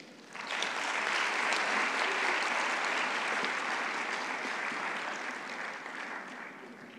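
Conference audience applauding for a guest of honor at a health agenda gathering, a dense, steady wash of clapping that swells in and holds loud for several seconds before easing slightly.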